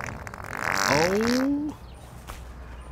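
A fart sound effect in a comedy clip: one drawn-out, sliding, squeaky blast rising to a loud peak, then cutting off abruptly into quiet background noise.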